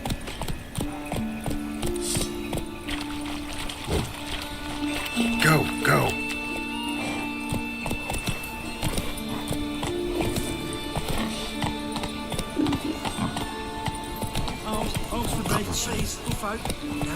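Horse hooves galloping in The Witcher 3 with a steady, quick clip-clop rhythm running through the whole stretch, mixed with game music and occasional voices.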